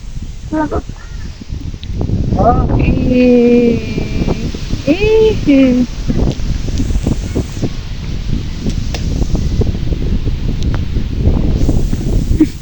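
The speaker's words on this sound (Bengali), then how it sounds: "বাতাস" Wind rustles steadily through the leaves of a tall jamun tree outdoors, a constant broadband rush that runs the whole time beneath several people talking and calling out.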